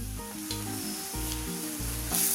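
Ground coriander, pepper and garam masala powders sautéing in a pan for a coconut-milk egg curry, a steady close sizzle with repeated stirring scrapes, alone and without talk.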